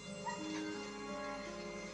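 A dog whimpering in a scene from the TV show Once Upon a Time, a thin, high whine rising briefly over a steady background of score and ambience, close and moderately loud.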